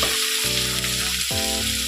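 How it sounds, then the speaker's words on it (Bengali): Bitter gourd frying in hot oil gives a loud, dense, close sizzle that runs unbroken over a steady tonal hum. "খানিকটা উচ্ছে এবার একটুখানি কড়া করে ভেজে নিতে হবে।"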